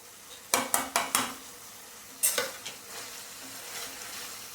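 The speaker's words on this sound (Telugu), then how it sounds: "దీనిలో ఇప్పుడు తోటకూర కాడలు వేసేస్తున్నానండి" Stems of amaranth drop into a pan of chicken curry, giving a quick run of four sharp clatters and stirring scrapes followed by a couple more knocks, then a soft sizzle settling underneath.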